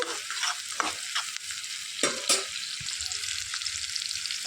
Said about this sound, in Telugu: సన్నగా తరిగి పెట్టుకున్న ఉల్లిపాయలు వేసుకోవాలి ఒక రెండు పచ్చిమిర్చిలు సన్నగా కట్ చేసుకొని వేసేసుకొని వేయించుకోవాలి